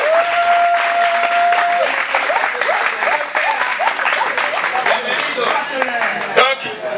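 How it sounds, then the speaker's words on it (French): Sustained audience applause at the Rire à Lomé comedy festival theatre, dense clapping continuing for several seconds, joined by whoops and scattered cheering voices over the crowd. "Merci de les applaudir pour nous, c'est important."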